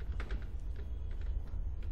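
Code typed on a computer keyboard gives quick, fairly soft key clicks in an irregular rhythm over a low steady hum.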